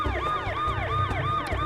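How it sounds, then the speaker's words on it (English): Police siren in the SimCity 3000 city-builder, a loud, continuous wailing siren sweeping up and down in a rapid repeating cycle about every half second, steady throughout over a low rumbling city background. "why are the police sirens always so loud in this particular area of town?"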